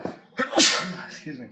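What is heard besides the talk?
sneeze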